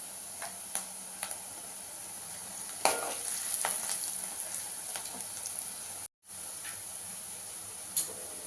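Onions frying in a pan with turmeric powder for a capsicum masala curry, a continuous soft crackling sizzle with occasional light ticks and one louder stirring stir midway, plus a brief dropout near the end.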